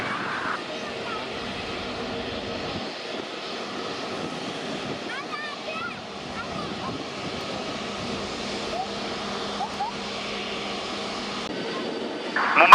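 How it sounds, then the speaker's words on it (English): An airliner on its takeoff roll from runway 27 at Mumbai airport gives a steady, moderately distant jet roar that holds throughout, with voices talking over it. "Cleared for takeoff, runway 27"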